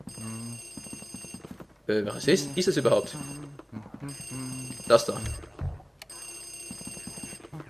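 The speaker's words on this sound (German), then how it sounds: "Wieso klingelt hier ein Telefon?" Telephone ringing inside the haunted mansion of the Luigi's Mansion video game, a repeating electronic ring in bursts that sound alone between stretches of talk.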